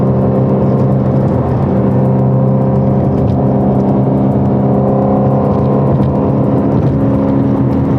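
A Ford Shelby GT350 driving, heard from inside the cabin as a steady loud engine drone with constant road and wind noise and no change in pace.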